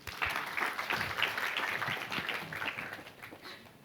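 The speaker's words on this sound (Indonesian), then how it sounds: "Yang setuju beri tepuk tangan." Steady applause from a crowd, a dense patter of clapping that holds for a few seconds and slowly tapers.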